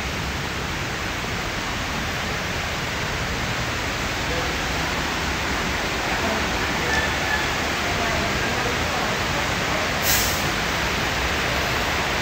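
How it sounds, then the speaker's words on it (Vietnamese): A natural year-round mountain stream in rural Lào Cai flows steadily beside a stilt house, its broad even wash of water filling the whole stretch at constant loudness with no voices standing out. "suối chảy quanh năm luôn dòng nước tự nhiên"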